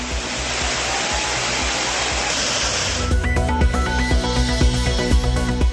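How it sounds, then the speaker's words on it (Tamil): Waterfalls at Courtallam pour with a steady flow, producing a dense, continuous roar of rushing water; after a few seconds, background music comes in over the water noise. "குற்றாலத்தில் உள்ள அனைத்து அருவிகளிலும் சீரான நீர்வரத்து"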